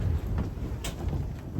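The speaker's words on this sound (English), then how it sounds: "Sorry about the wind. You can see it's actually shaking the roof." Winter wind gusts across an allotment garden plot, rumbling low and steady against the microphone and buffeting a shed roof, with no talking.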